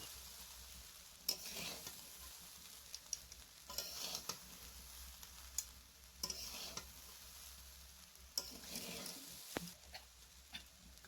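Rice being stirred and tossed in a hot pan for mixed fried rice, a soft continuous sizzle broken by repeated scraping bursts of the spatula every couple of seconds, close and moderately quiet.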